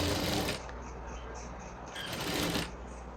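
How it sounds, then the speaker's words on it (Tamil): A sewing machine stitches a sleeve onto a garment body in two short bursts of rapid mechanical clatter, close and fairly quiet, with a soft pause between runs. "கரெக்டாக அந்த 1/2 இன்ச்சில் நான் ஸ்டிச் கொடுக்குறேன்."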